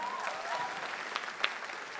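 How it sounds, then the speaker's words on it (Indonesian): A studio audience at a stand-up comedy grand final in Indonesia applauds, a steady, fairly faint wash of clapping with a few sharper claps standing out. "Tepuk tangan dulu semuanya."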